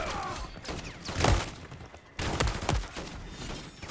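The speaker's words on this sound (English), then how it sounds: "Oh, sentry gun!" Automatic sentry gun firing in a Modern Warfare 3 Zombies mercenary camp, heard as two loud bursts of sharp impacts and thuds separated by a short gap, with dense gunfire-like crackle filling the clip.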